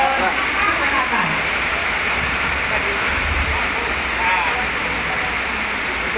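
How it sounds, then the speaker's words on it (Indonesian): Steady rain falls during an indoor women's empowerment training session in Tasikmalaya, a continuous broadband hiss filling the whole stretch at even loudness, with faint voices murmuring beneath it. "Hujan ya Bapak Ibu."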